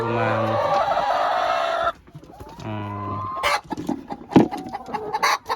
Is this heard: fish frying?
no